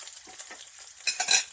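Bacon fries in a frying pan with a bright crackling sizzle up close, spitting in quick irregular pops that grow louder and denser toward the end, with no talking.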